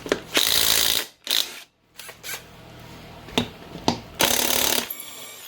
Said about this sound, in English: Use the trusty chrome socket on the impact.